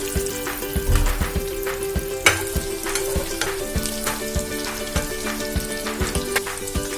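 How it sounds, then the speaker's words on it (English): Cheese corn balls frying in a pan of hot oil, a steady close crackling sizzle with frequent small pops and bursts throughout, no voices. "now I'm going to add the cheese corn balls to it. I'm going to fry it until they become golden brown"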